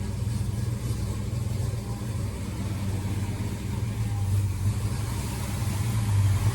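A big block Chevelle's engine idles low and rumbling as the car slowly backs into a paint booth, a steady deep drone with slight swells.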